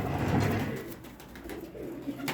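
Pigeons in a breeding setup coo nearby, a soft low throaty burble swelling at the start and then trailing off among faint background rustle.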